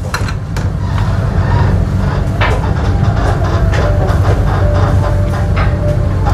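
Banyubiru Ekspres passenger train slowing into Brumbung station, heard from inside the carriage as a loud, steady low rumble with rail clatter and a faint squeal of brakes.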